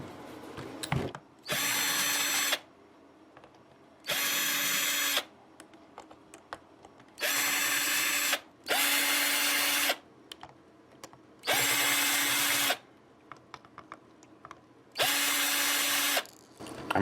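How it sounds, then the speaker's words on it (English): A power drill works on an Epiphone Les Paul Special guitar in six separate bursts of about a second each, a high whirring whine broken by quiet pauses with faint handling clicks between. "I'll keep doing it with a drill"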